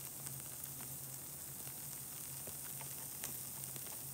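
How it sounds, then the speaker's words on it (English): An MRE flameless ration heater fizzes and bubbles as it heats, a faint, continuous hiss with light crackling pops, steady and close with no talk over it. "I can hear it from here. It's bubbling up."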